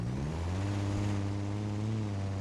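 A car engine in BeamNG.drive revs steadily and loudly, a sustained mid-pitched drone with a slight rise in pitch early on and no voices over it.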